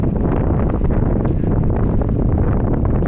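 Loud, unbroken wind roars and thumps against the microphone outdoors at Water Street and Barrington Street, a dense low rumble throughout with no speech.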